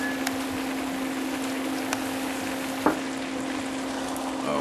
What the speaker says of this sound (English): I'm going to put in these butter beans, which are in a can